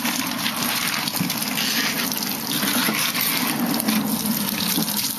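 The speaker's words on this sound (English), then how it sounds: "I'm going to take the second bottle and do the same thing to rinse it out thoroughly." Running tap water gushes steadily into a small RV air conditioner bottle being rinsed out, a continuous close splashing flow with no talk.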